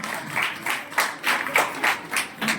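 An audience at a retirement function claps, a brief patter of hand claps in quick uneven bursts, fairly close and moderate in volume.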